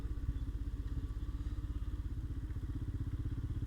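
A Royal Enfield Himalayan 452 motorcycle engine thumps while riding, a fast, even low-pitched pulse that stays steady and fairly quiet throughout, with no talking.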